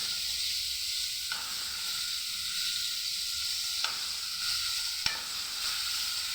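Spices for a vegetable biryani frying in a pan, a steady close sizzle and hiss with a few sharp clicks of stirring, no voices.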